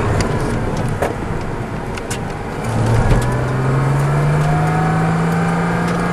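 Race car on a track braking hard then accelerating, engine note dropping and rising into a steady climbing whine, loud and close over continuous road and wind noise.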